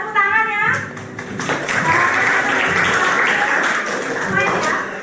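Students in a classroom clap briefly for a classmate who scored 100, scattered hand claps mixing with the teacher's voice and chatter over a roomy, busy background.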